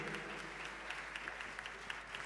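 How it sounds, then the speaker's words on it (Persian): An audience claps for Nima Fereydouni at a music school concert, a steady, moderately distant round of applause that holds evenly throughout. "میخوام تشویق بکنین آقای نیما فریدونی رو"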